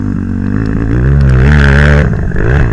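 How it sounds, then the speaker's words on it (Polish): A Yamaha YZF 250 four-stroke enduro motorcycle, about 100 kg dry, passes close by with a loud, buzzing engine note that climbs in pitch as it accelerates and then drops away, heard alone. "Tutaj jedzie sam sprzęt 100 kg bez płynów na sucho Yamaha YZF 250 czterosuwie ma kopę jak jasna cholera"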